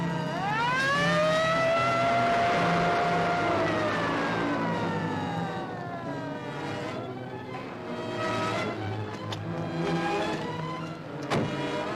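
A car driving in a colorized Charlie Chan mystery, its motor and tires running steadily while a rising and falling siren-like wail sweeps over it early on, then fades under softer road noise.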